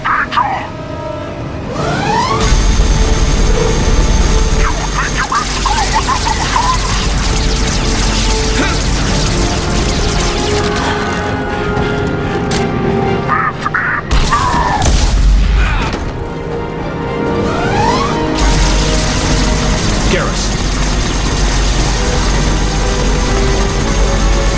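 Gunfire and heavy explosions from a Mass Effect 2 combat encounter, loud booms and sharp shots layered over continuous battle noise and game dialogue, with a brief lull midway before the firefight resumes.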